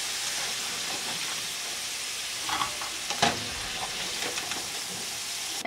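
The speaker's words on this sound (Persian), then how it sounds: "مثل که چپس رو بیریان میکنیم کچولو رو هم بیریان میکنیم." Potato pieces fry in hot oil like chips, making a steady, dense sizzle with a few brief stirring scrapes partway through.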